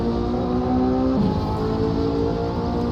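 Race cars run side by side at a Race of Champions event, with a steady, loud engine drone and a noticeable pitch drop around a gear change or braking point.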